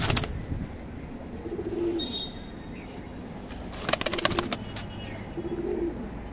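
Racing pigeons in a loft coo softly in low, repeated phrases, with bursts of wing flapping and a few thin chirps nearby.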